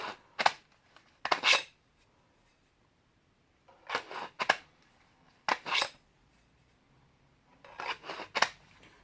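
A TOPS Prather War Bowie knife is drawn from its custom sheath in a series of short, scraping, rustling bursts, roughly paired, separated by quiet gaps, close and fairly crisp.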